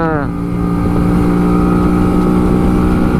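A 21-year-old Honda Shadow 125 motorcycle drones at high revs with a steady tonal whine and heavy wind rush, speeding along at constant pace, about 108 km/h.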